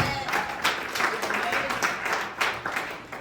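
Workshop audience clapping for themselves, a dense patter of many hands in a room, uneven and fairly loud, running throughout with a voice mixed in.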